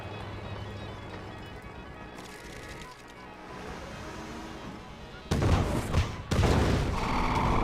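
Desolator radiation attacks in Red Alert 2: Yuri's Revenge set off explosions, with a rumbling battle bed giving way to sudden loud bursts of blasts near the end, while commentators talk over it.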